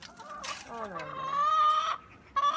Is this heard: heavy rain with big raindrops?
no